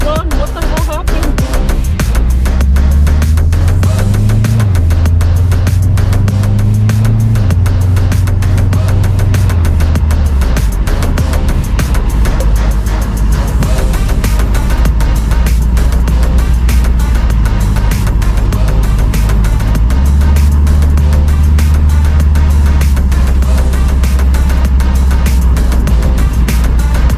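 A Subaru Forester XT engine, just repaired after fault codes P2109, P600 and P700, runs nearby with a steady low rumble and revs that rise and fall, while people talk excitedly over it throughout.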